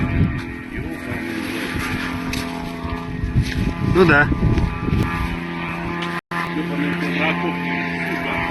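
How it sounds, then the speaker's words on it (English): A drone flies overhead, making a steady, droning motor hum that swells slightly midway through, with people talking nearby and a brief dropout near the end. "You can hear that drone flying over this guy."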